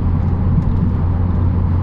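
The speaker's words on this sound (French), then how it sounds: "pour parler du son de la voiture, bon là, l'échappement est d'origine" A Renault 21 2L Turbo with its stock exhaust drives along, giving a steady, loud low engine drone with road rumble that holds even throughout.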